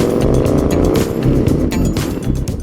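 Morgan 3-Wheeler engine throbbing loud and close while driving, a dense rumbling pulse with steady vibration and rasping upper noise throughout.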